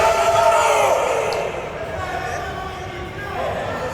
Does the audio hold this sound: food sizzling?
no